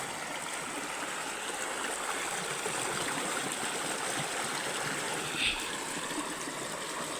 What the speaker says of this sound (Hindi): ये पानी है, आप सब सामने देख सकते हैं, 6 इंच 7 इंच पानी है